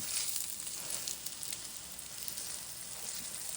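Breaded chicken cutlet frying in oil in a pan for chicken parmesan, a steady, dense hiss and crackle of sizzling that carries on unbroken throughout, close and fairly loud, with no voices.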